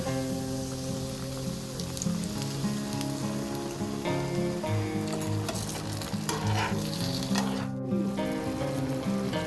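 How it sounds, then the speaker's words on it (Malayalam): Melted jaggery poured over banana pieces softened in hot ghee sizzles and bubbles steadily, with stirring scrapes close up and no voices. "അതിലേക്ക് നമുക്ക് ശർക്കര, ഉരുക്കി വെച്ച ശർക്കര ഒഴിച്ചു കൊടുക്കാം."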